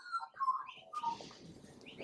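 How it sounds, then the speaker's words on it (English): An Australian magpie's warbling mixes with the shrill, screechy calls of a small black-and-white peewee, two territorial birds squabbling outdoors; the short calls overlap, sound faint and somewhat distant, and no one speaks. "that warbly noise, that's the magpie. And that screechy noise is a bird, a little black and white bird called a peewee."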